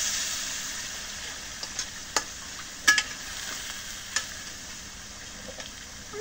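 Meat being added to a pan of fried chili and spices for a beef curry, a steady soft sizzle with scattered clicks and scrapes of a stirring spoon against the pot.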